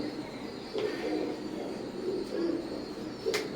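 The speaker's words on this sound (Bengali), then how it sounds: "স্ক্রিনে যে কবুতর জোড়া দেখতে পাচ্ছেন ওমান ব্লাড লাইনের এক জোড়া কবুতর বাচ্চা" Young Oman bloodline Teddy pigeons coo softly in several low, rolling calls spaced across a few seconds, fairly close but quiet, with a faint rustle and a brief sharper click near the end.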